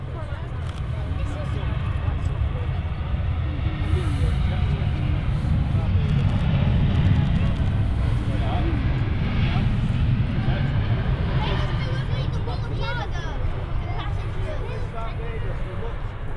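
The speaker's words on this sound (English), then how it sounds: "TUI Dreamliner number 2 is spooling up" A TUI Boeing 787 Dreamliner's jet engines spool up at Manchester Airport, a loud low roar that builds and holds steady, with voices and crowd chatter audible under it.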